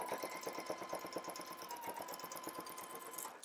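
A sewing machine runs a longer basting stitch at a half-inch seam on jumpsuit pants, its needle tapping in a fast, even rhythm with a faint motor whine, close and steady, no talking.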